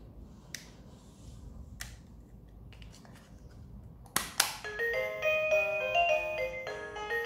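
A Kawasan I618 wireless motion-sensor doorbell chime follows a few sharp clicks and taps, then plays a bright electronic melody of ringing tones that fills the rest of the moment, moderately loud and close, with no talking.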